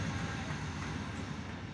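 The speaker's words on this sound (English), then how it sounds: "as the train goes by again" A train rolls past near a baseball field, a steady low rumble and rattle of rail cars holding constant throughout with no voices over it.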